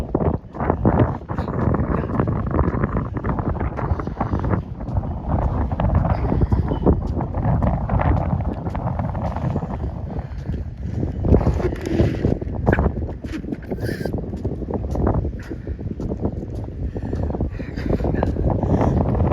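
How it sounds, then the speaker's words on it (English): Steady wind gusts buffet the microphone by a riverfront near a lighthouse, a loud, continuous rushing roar with no talking. "It is breezy today."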